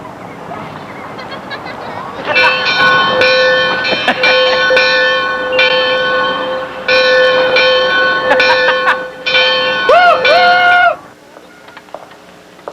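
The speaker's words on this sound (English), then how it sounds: "Try the bell." A loud, clanging locomotive bell rings repeatedly in uneven bursts, its bright metallic tones sustaining between strikes before stopping abruptly near the end.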